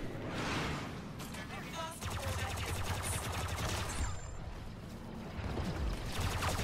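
Rapid blaster fire aimed at a droid in the video game Star Wars Battlefront 2, dense overlapping shots under a busy battle din, with game noise and effects throughout.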